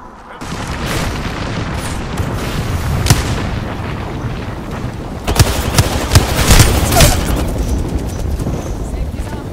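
Artillery strike in a video game: repeated heavy booming explosions land in a dense barrage, loud and rumbling, with sharp blasts clustering midway, while a voice talks over the bombardment.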